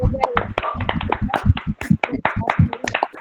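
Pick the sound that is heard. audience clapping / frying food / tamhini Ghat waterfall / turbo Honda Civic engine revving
audience clapping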